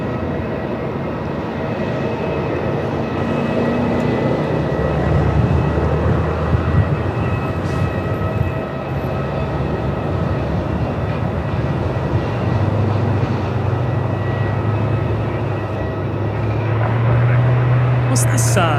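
A Boeing 787 Dreamliner at Melbourne Airport gives a steady, loud jet engine roar that swells and holds throughout, with voices talking over it.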